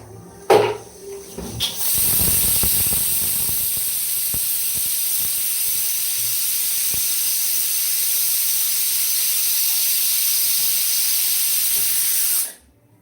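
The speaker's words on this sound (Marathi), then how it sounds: "आपल्या छोलेला पटापट सिट्या होत आहे" A pressure cooker full of chickpeas for chole whistles steam in a loud, sustained hiss after a few brief clatters. The hiss runs evenly for about ten seconds, then cuts off abruptly.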